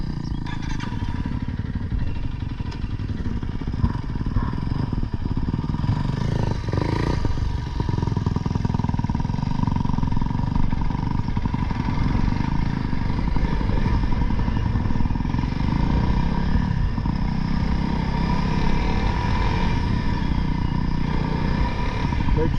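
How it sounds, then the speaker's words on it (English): A 2021 Honda CRF300L motorcycle ridden on the street, its engine droning steadily and loudly for the whole stretch with wind rush and slight shifts in pitch, and no talk over it. "enjoy this mediocre video of me riding a street bike"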